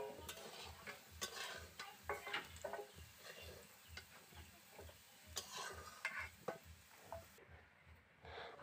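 Potatoes frying in a pan while being stirred, heard faintly: soft sizzling with repeated scrapes and light clinks of the spoon over a quiet, regular low ticking pulse throughout.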